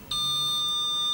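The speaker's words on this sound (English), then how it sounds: "now you can hear that audible entry delay" A GE Interlogix NX alarm system keypad sounds its entry delay after a door zone opens: a clear, steady electronic beep tone starts abruptly and holds, close and alone.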